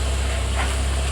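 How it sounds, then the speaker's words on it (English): A 2004–06 Nissan Maxima with true dual 2.25-inch exhaust from stock headers, no Y pipe and two mufflers, idles with a steady, deep, continuous rumble, close and loud. "Maxima with the full dual exhaust"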